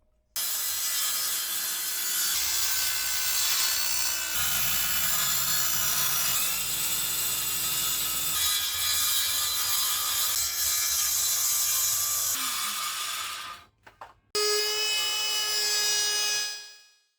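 Cutting synthetic material for boat battery trays: a continuous loud, bright machine cutting noise that runs steadily for about fourteen seconds, stops briefly, then resumes before winding down.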